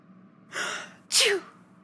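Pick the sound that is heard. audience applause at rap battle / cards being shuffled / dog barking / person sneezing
person sneezing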